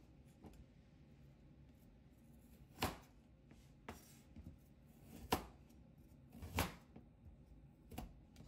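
A knife chops food into small pieces on a board in a few separate, irregular cuts, close and fairly quiet, with soft kitchen handling between strokes.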